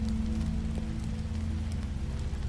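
Steady rain falls in the video game The Wolf Among Us, a continuous soft hiss over a low rumbling ambient drone, with no voices.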